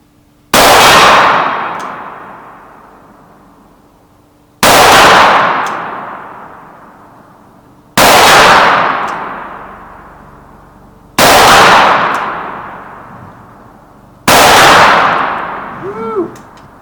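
A Smith & Wesson 29-2 .44 Magnum revolver fires five loud shots outdoors, each hitting a steel gong. Every shot cracks, then the gong rings with a long fading clang, spaced about three to four seconds apart.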